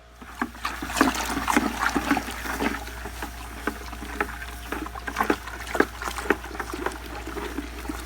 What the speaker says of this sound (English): So mixing up some fertilizer here right now